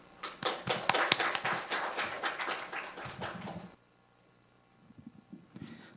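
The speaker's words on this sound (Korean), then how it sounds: "환영의 박수 부탁드립니다." A room of forum attendees gives welcoming applause for a speaker, brisk close clapping that stops abruptly, followed by near silence and a few faint rustles.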